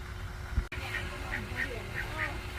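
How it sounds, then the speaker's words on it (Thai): Ducks quack several times in quick succession at moderate distance, under a steady background hum with some voices nearby. "เป็ดเป็ดเป็ด"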